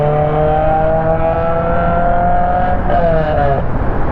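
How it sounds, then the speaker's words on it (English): A loud car drives past, its engine note holding a steady harmonic drone that bends slightly downward near the end as it goes by, fairly close and continuous. "Why is your car so loud?"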